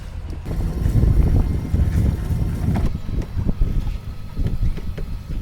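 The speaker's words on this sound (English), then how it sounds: "no motor anymore, just sailing" A sailboat sails close-hauled under mainsail in light wind, with a steady rush of wind and water against the hull, soft creaks and splashes, and low rumbling buffeting close by throughout.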